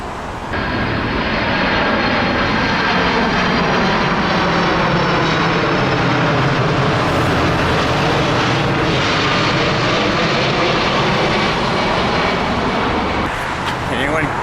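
A low-flying aircraft passes overhead, a loud, sustained propeller-engine roar that swells in and fills the whole stretch before starting to fade, close and overwhelming.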